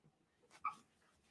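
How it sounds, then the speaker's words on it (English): A dog gives a single short whimper, faint and a little distant, rising briefly out of an otherwise quiet room. "I might have to let this dog out."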